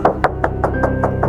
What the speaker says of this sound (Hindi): किसने नॉक किया?